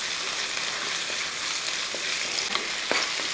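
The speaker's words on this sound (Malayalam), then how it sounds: "ഒരു വലിയ കഷ്ണം ഇഞ്ചിയും അതുപോലെ ഒരു 5-10 വെളുത്തുള്ളി അരിഞ്ഞത് ഈ ചൂടായ എണ്ണയ്ക്കകത്തോട്ട് ഇട്ട് കൊടുക്കുക" Chopped ginger and garlic sizzling in hot oil for a masala curry, a constant fine hiss close by with a few faint stirring taps, no talking.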